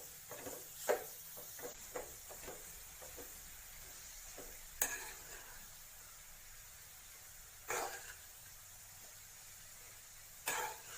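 Grated carrots for halwa are sautéed and stirred in ghee: a soft, low sizzle sits under intermittent scraping strokes and a few sharper clacks of a spoon against the pan, spaced a few seconds apart.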